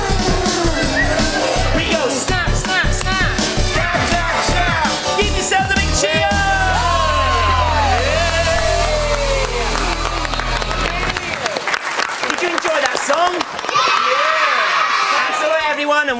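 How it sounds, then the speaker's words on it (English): A studio audience on the children's TV show Justin's House cheers and whoops loudly, mixed with upbeat music and a presenter talking over the noise. "Give yourselves a big cheer!"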